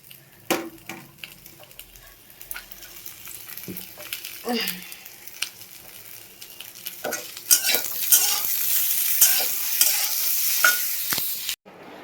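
Vegetables are stirred in a pan with spices and onion for a fish curry, with intermittent clinks and scrapes of a spoon that build into a louder, continuous sizzle toward the end.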